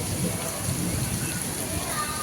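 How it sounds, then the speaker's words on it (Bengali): Steady rain falls outdoors in hilly country, a continuous, even hiss of moderate loudness that holds without break. "বৃষ্টির মধ্যে সুন্দর লাগছে"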